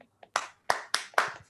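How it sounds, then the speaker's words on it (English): A brief scatter of about five hand claps, sparse and uneven, sounding close and fairly faint, like a single person or a very small group in a meeting clapping. "A big round of applause."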